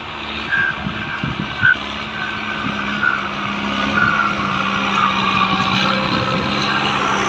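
A Kubota M5702 and a Yanmar tractor rotary-till a dry rice field, their diesel engines holding a loud, steady drone with a low hum beneath it. The roar swells slightly heavier toward the end.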